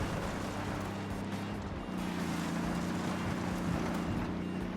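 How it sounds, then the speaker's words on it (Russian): A jeep engine idles and runs in Ghost Recon Wildlands, a steady low motor drone with a slight shift in pitch midway and a faint windy hiss, no talking. "Как он звучит, а, мотор."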